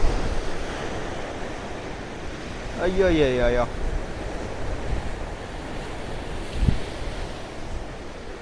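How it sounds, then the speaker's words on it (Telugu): Steady roar of ocean surf breaking close by, with a brief exclaiming voice partway through. "అలలు చూడండి అసలు ఎలా వస్తున్నాయో"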